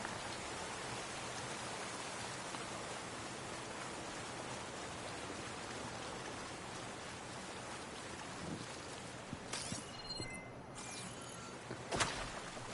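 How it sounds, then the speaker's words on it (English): Steady rain pours in the video game Horizon Forbidden West, a dense, constant hiss of falling drops that fills the scene, with a couple of brief sharper sounds near the end. "Can't hear much over the rain."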